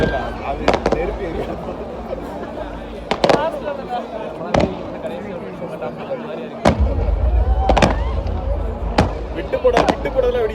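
Firecrackers burst outdoors in sharp, loud, scattered cracks, about eight separate bangs, over a steady background hum, with people talking.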